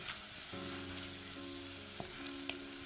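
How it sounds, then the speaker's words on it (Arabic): A finely chopped small onion fries in a pan, giving a steady, close sizzle with a faint tonal hum underneath and a couple of light clicks near the end. "وهلأ بقليه حوالي 3-4 دقايق ليدبل."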